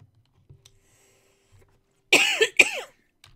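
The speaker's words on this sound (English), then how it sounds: "Why am I coughing?" A person coughs twice in quick succession, close and fairly loud, after near silence with a few faint clicks.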